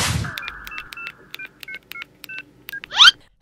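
A quick series of telephone keypad tones, about a dozen short beeps in an uneven rhythm, followed by a brief rising electronic chirp.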